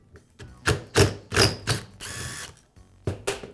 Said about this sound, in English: and then I can remove the screw.